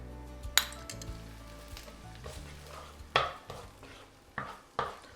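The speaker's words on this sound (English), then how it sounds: "Saute until fragrant." Diced onion and freshly minced garlic sautéing in a stovetop pan: a faint sizzle broken by several sharp scrapes and clinks of a utensil against the pan at irregular intervals, close and quiet, with no talking.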